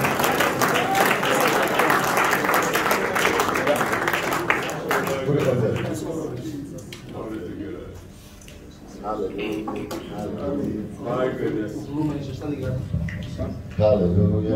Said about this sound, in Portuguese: Receba o bispo com palmas, com glória, com aleluia, em nome de Jesus.